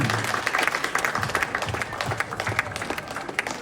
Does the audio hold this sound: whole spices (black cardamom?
no